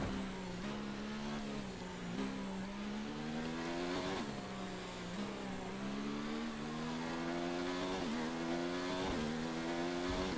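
A Formula 1 car in the F1 2019 racing game at the Chinese Grand Prix, its engine loud and constant, whining up through the gears with repeated rising sweeps and brief drops between shifts.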